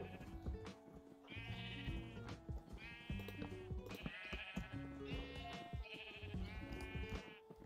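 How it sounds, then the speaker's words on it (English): Sheep bleat in the video game Minecraft, with about five loud wavering bleats arriving in quick succession over a busy game backdrop. "there's so many sheep over here"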